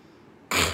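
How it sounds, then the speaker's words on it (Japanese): One short, sharp nasal sniff from a person with a runny, congested nose and sinusitis. It bursts out suddenly after near-quiet and is heard alone. "やっぱ不快でしょ、鼻すする音。"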